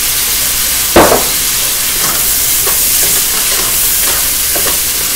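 Loud, steady sizzling of chicken fried rice stir-frying in a hot pan, with a sharp clank of a utensil early on and softer scraping taps after.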